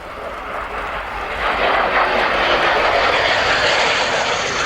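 Cold War jet at an airshow flying in formation with the Vulcan and Vampires, a broad engine roar swelling as it approaches and holding steady and loud as it passes.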